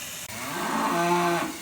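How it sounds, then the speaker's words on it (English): Cattle low with one long, loud, close moo that swells and then fades, standing alone with no talk over it. "You're still mooing for your stolen milk?"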